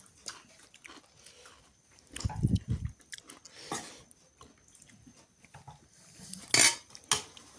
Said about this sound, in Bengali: এটা একটু খাই এই যে চিংড়ি এক পাশ থেকে একটু তরকারি উঠে নেই